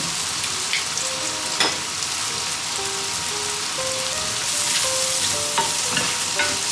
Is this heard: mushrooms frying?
yes